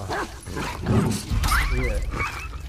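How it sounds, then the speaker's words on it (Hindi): Dogs barking and whimpering in the video game The Last of Us Part II, several loud, close yips and barks over game noise, with voices mixed in. "ये कुत्ते कहां से ला रहे भाई इतने सारे"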